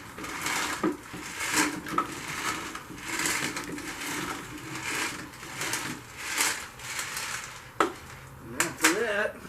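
Homemade black powder being stirred around in a container, a steady gritty scraping and rustling with soft knocks against the sides, close and moderately loud, a voice murmuring now and then.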